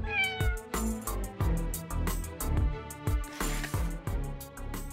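A cat meows repeatedly in quick succession, loud and close, with short pauses between calls and a steady musical backing underneath.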